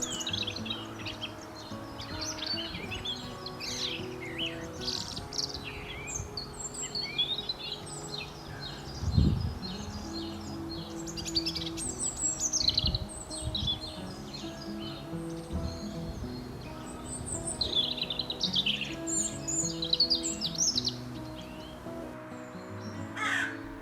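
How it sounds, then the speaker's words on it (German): A European robin sings in early spring, thin high warbling phrases repeated throughout, mixed with loud cawing crows and other birds in a busy outdoor chorus, with no voices. "Auch das Rotkehlchen verzückt uns ab dieser Zeit mit wunderschöner Musik"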